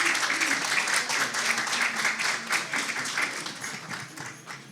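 Church congregation applauding to welcome a guest preacher at a Sunday service, a dense steady patter of many hands filling the room, fading slightly toward the end.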